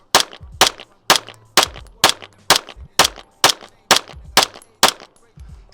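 Pistol shots fired at a target three yards away, a full magazine emptied as about ten loud, sharp cracks in a quick, even rhythm, each with a short echoing tail, close and with no talk.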